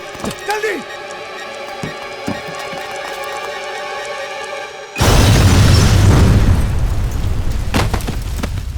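A bomb goes off with a sudden loud blast that gives way to a long, dense roar of rumbling debris, following a stretch of quieter tones and clicks.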